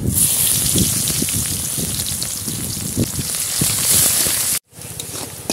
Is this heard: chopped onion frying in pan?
yes